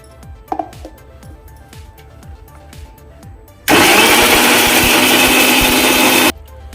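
A few light clicks and rattles, then a loud blender roars on for about three seconds, pureeing tomatoes steadily before cutting off abruptly.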